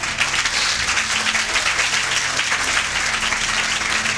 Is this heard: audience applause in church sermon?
yes